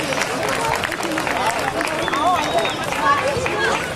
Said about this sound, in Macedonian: да го поздравиме со голем аплауз